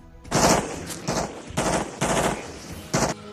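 Machine gun fire in a Vietnam war film: five or six loud, close bursts of automatic fire, each lasting a fraction of a second, separated by brief gaps, with no voices.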